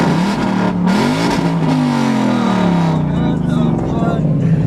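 A 5.0 engine with newly replaced headers revs loudly up close, its tone rising and then settling, while people talk over it.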